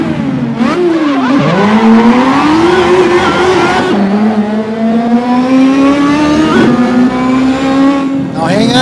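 Racing car engine in a video game revving loud and close, pitch dropping at each gear change and then rising again, with faint tire squeal.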